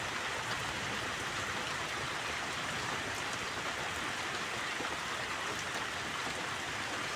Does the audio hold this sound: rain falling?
yes